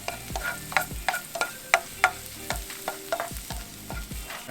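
Garlic frying in a pan for Filipino spaghetti gives a close sizzle broken by a regular series of sharp scraping stirs and clacks of a utensil against the pan, with no talking.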